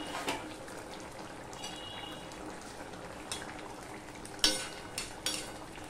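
Pomfret fish in oil and chili simmering covered on medium-low heat: a soft, steady bubbling and faint sizzle, with a few light clinks of a utensil against the pan near the end.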